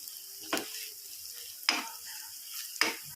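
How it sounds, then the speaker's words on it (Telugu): Moong dal, onion and turmeric frying in oil, stirred with a utensil: three sharp scraping strokes spaced about a second apart over a soft, steady sizzle, heard close up with no talking. "పెసరపప్పు మంచిగా ఇట్లా నూనెలు ఇది కూడా ఉల్లిగడ్డతో సహా ఫ్రై చేసుకోవాలి"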